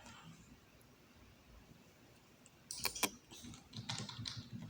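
Keyboard typing, with keys pressed to save a file while coding: quiet at first, then a few sharp, close key clicks followed by a short run of lighter taps.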